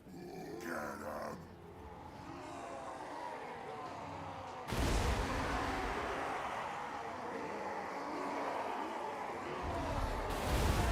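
A warp lightning cannon in the video game Grimhammer 2 fires on orcs. Battle noise and grunts build until a sudden loud, crackling blast hits midway and roars on to the end.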